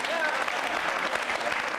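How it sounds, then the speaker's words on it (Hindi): Audience applause at a Jain Social Group quiz show, a dense steady wash of clapping that fills the short moment from start to finish without a break. "तालियां जोरों से बजाइए इनके लिए आप।"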